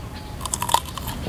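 A fresh Ajwa date picked straight from the palm in Medina is bitten into, giving a few short, crisp crunching bites up close, with chewing noises and no talk over them.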